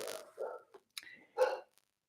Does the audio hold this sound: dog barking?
yes